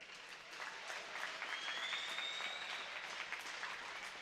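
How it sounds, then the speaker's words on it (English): Crowd at a varsity hockey rink applauding the Baldwinsville seniors, sustained distant clapping with a few faint cheers and whistle-like tones over the arena's reverberant space, fairly quiet and even throughout. "Please give a warm round of applause for your Baldwinsville hockey seniors."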